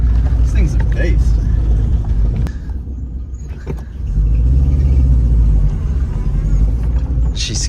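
Holden VT Clubsport pulling hard through second gear, a loud, steady engine roar that dips briefly mid-pass before surging again, with excited voices talking over it close to the car.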